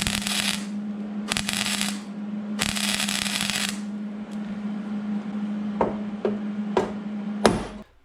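Metal clanks and scraping bursts ring out as a punch pushes back the inner rocker panel on a Mercury Sable station wagon, with a steady hum underneath and several sharp taps near the end.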